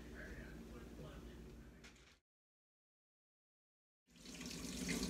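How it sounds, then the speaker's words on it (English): Water runs from a tap while almond flour and egg are rinsed off a finger, a close steady splash that cuts out completely for two seconds and then returns louder. "Rinsing the leftover almond flour and egg from my finger."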